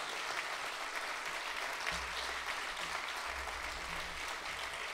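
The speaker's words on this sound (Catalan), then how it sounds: "Un aplaudiment per a ell." Concert audience applauding a cellist after a Shakespeare sonnet setting, steady dense clapping sustained throughout at moderate level, with a low rumble entering midway.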